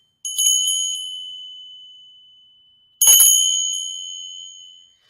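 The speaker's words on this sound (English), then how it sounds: "just take a second and just ring my bell" A bell is struck twice, each bright, high ring sustaining and slowly fading before the next strike.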